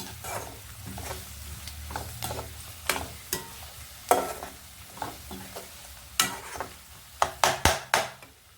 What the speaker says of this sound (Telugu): అల్లం వెల్లుల్లి. ఉల్లిపాయలతో పాటు వేగాలి అది కూడా.